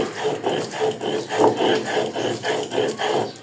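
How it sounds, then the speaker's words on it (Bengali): Spices are ground by hand on a flat grinding stone (pata) for biryani, the stone scraping in a steady back-and-forth rhythm of about seven rough rasping strokes, close and fairly loud, with no one talking. "আমি মশলাটা বেটে নেই"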